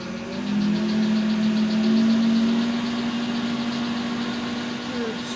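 A lathe motor winds up to about 1200–1300 RPM, giving a steady close hum and whine that rises slightly and then holds, with a faint mechanical rattle underneath.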